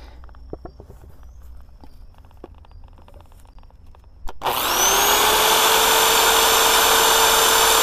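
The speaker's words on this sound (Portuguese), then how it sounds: "Eu pego essa telha colonial, logicamente eu preciso furar." A drill with a carbide bit bores into a ceramic colonial roof tile: after a few quiet taps and handling knocks, a sharp crack gives way to a loud, steady high whine of the drill grinding through the tile, close up.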